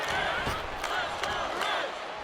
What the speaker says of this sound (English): This crowd don't even like it. They are hating this match.